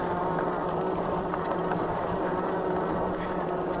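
Torque-sensor electric bike motor on a full-suspension Senada Viper Plus droning steadily under wind and road noise, a continuous low hum with faint tonal lines and no speech.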